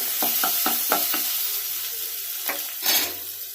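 Lemon idiyappam being stirred and mixed in a pan: five quick, evenly spaced scrapes of a spoon, then a pause and two more strokes, all over a steady low sizzle close by.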